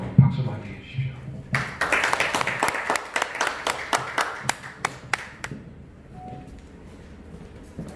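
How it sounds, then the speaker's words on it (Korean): An audience at a Korean smart-work lecture claps to welcome the speaker. The clapping is sparse and sharp, a small crowd rather than a large one, and fades out into quiet room noise. "여러분 박수로 환영해 주십시오"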